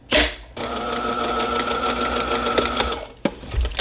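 A sewing machine stitches a quilted hot pad, back tacking at the fold. It whirs steadily for a few seconds, with brief starts and stops at either end.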